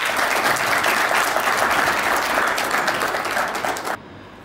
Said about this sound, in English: Ladies and gentlemen, please give them a very big round of applause.